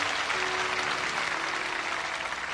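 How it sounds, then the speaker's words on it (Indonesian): A church congregation claps steadily throughout, a dense, even wash of applause filling the room at moderate level with no break, a faint sustained tone running beneath it. "Berikan tepuk tangan untuk Tuhan"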